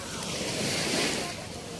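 Sea waves washing onto a sandy beach in a steady, full surf rush that swells and eases, with some wind buffeting the microphone and no talk.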